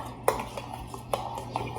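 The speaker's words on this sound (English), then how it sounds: "Mix this around a little bit" A utensil stirs a thick homemade ketchup mixture in a bowl, giving a few sharp scraping clicks spaced about a second apart over a low steady hum, moderately close and with no talking.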